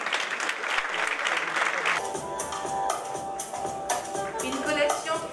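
An audience at a fashion show breaks into loud, sustained applause, dense clapping that carries on for several seconds, with some crowd voices underneath.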